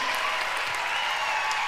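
Dense, steady applause from a large live concert audience in Phoenix, Arizona, cheering the band members as they are introduced, loud and continuous without a break.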